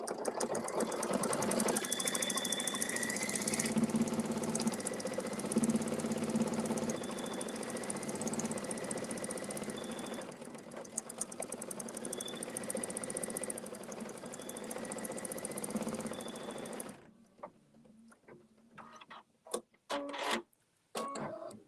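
An embroidery machine stitches a quilt design in the hoop with a steady, fast mechanical chatter and rhythmic needle ticking that runs continuously, then stops, leaving scattered clicks and handling noises.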